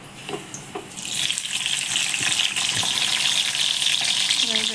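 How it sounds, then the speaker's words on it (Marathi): Chopped tomato dropped into a hot pan of oil, a few light clatters followed by a sudden loud hissing sizzle that holds steady to the end. "हा टॉमॅटो आता याच्यात टाकायचा आहे"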